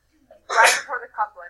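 A single loud sneeze bursts out in a classroom during an English lecture on Shakespearean sonnets. It is followed by the lecturer's continued speech.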